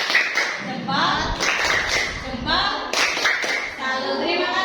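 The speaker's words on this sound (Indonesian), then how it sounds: "Kita beri tepuk salut buat Mbak Dinda. Tepuk salut." A classroom of students claps a salute for a classmate, rapid bursts of hand claps mixed with children's voices and a teacher talking over them.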